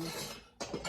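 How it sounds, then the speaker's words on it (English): Ceramic pottery pieces such as candle holders, spoon rests and soap dishes clink and scrape as they are handled, with a short rasping rub followed after a brief pause by louder close clattering. "sorry for the noise, that's pottery for you."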